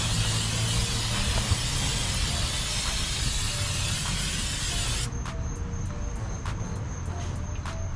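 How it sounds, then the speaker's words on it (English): Brake cleaner sprays onto front brake parts of a 2019 Toyota RAV4 Prime in a loud, continuous hiss for about five seconds, then cuts off, leaving a few faint metallic clicks. "A little bit of brake cleaner."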